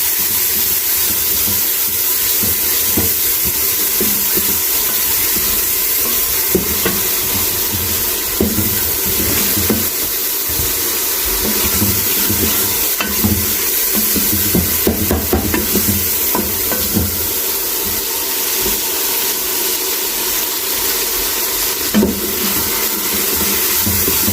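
Garlic, ginger and green chili paste fries in a pan for minced-meat and peas keema, giving a steady close sizzle with intermittent stirring scrapes throughout, no voices.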